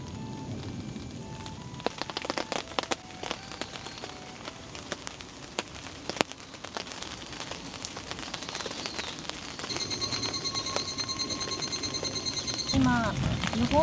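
Rain falls steadily on a solo campsite during a sudden thunderstorm, a constant wash of patter with scattered sharp drop hits, growing heavier toward the end, with faint background sounds mixed in.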